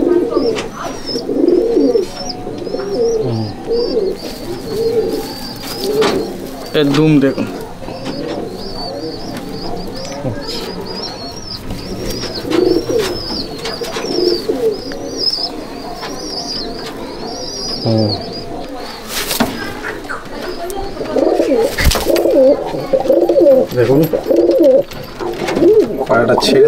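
Pigeons in a top-quality loft at Sangrampur coo steadily and continuously, with occasional wing flaps, while someone talks over them throughout.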